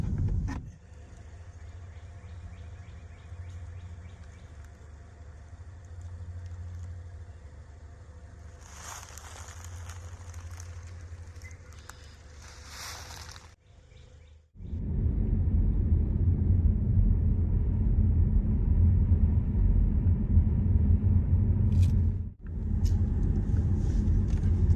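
A car drives slowly through the quiet back roads of Gettysburg battlefield's East Cavalry Field. At first there is a steady low engine rumble, then a louder, fuller road roar takes over for the second half, with one brief dip in the middle.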